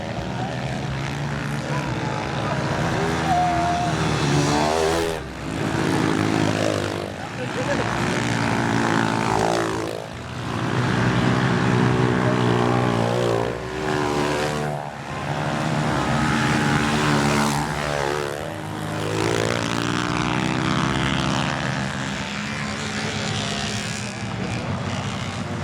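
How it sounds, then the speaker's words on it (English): Several Honda C90 motorcycles on road tyres race around a scramble track at a nostalgia event, their small engines droning loudly and surging and fading in repeated waves as they pass. "if you didn't think that you could race a Honda C90 with road tyres on it, then just take a look at these"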